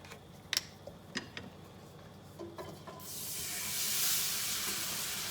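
Milk poured into a hot pan of heavily peppered gravy sends up a rising, sustained sizzle and hiss, preceded by a few light clicks and taps of a utensil against the pan.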